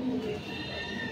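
Pigeons coo softly on a rooftop, a brief low murmuring call heard once at close range over light background noise.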